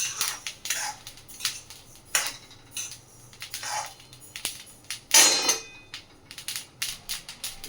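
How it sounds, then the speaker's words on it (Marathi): Flaxseeds dry-roasting on an iron griddle give off scattered scraping and crackling bursts at an uneven rhythm, close and moderately loud, with quiet gaps between and no voices. "थोडा तडतड तडतडचा आवाज येतोय."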